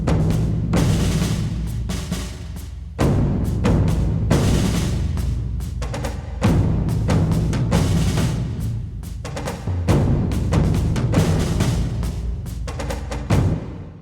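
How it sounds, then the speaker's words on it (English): Looping drum pattern for a first fight scene, with steady loud hits and a shaker coming in and out, dense percussion continuing alone without talk. "patterns that I used. One for the first fight scene"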